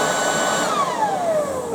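A Hyundai HYBV3000E electric leaf blower runs in vacuum mode with a steady, close whirring motor hum, its pitch sliding downward partway through as the tone shifts.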